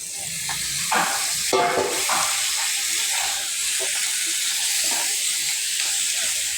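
Washed egret meat tipped into a pan of hot masala, setting off a loud, steady hiss and sizzle with a sharper burst early on as the meat lands.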